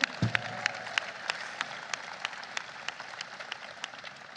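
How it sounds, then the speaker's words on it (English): An audience at a presidential event celebrating the Inflation Reduction Act claps in sparse, scattered strokes, an early loud burst giving way to a thinning, fairly distant patter. "yeah, round of applause for that"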